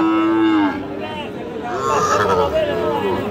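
A Sahiwal cow lets out a long, loud moo nearby at a cattle market, followed by more lowing mixed with people chattering in the background.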